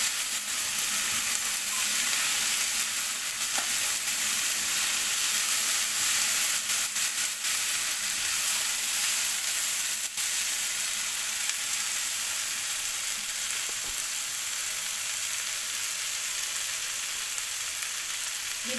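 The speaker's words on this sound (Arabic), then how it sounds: "خلاص فضينا عليها الرز والعدس، نديهم تشويحه مع بعض كده." Rice and lentils sautéed together in a hot pan for Egyptian koshari, a steady close sizzle and hiss with faint stirring scrapes, continuous throughout.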